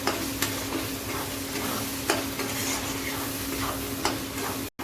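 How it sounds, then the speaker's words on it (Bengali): Chana masala spices, salted, are stir-fried in a pan with a continuous close sizzle and frequent scraping stirs, a few sharper clicks standing out, ending in a brief silent gap; no talking. "আমি ভালো করে এগুলো সব কষাই নেব"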